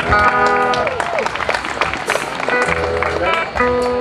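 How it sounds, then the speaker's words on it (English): Concert crowd applauding a band at a charity concert, clapping and cheering under loud amplified music, with someone talking over it. "Give a nice round of applause."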